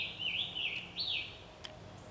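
Birds in the woods on an early hot morning at a camp give a couple of quick warbling chirps, fairly near but soft, followed by a faint short call over quiet background.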